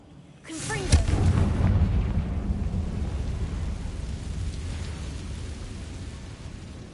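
A Confringo spell explosion in the Hogwarts Legacy video game, a sudden loud booming blast followed by a long rumbling, crackling tail that slowly fades over several seconds.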